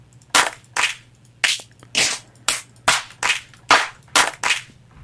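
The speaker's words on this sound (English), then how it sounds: "say some of these layered claps, they sound really like awesome and wide and lots of stuff going on in them." Layered clap samples from the Waves Alchemy library, about ten wide, bright hits fired one after another at a steady, slightly uneven pace over a faint low hum.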